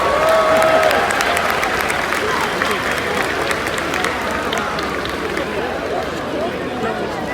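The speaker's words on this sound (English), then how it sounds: "Another round of applause for our audience volunteers" Virtual crowd applause with scattered cheering at a Roblox SeaWorld orca show, a dense steady wash of clapping that stays loud throughout, with a brief tonal element near the start.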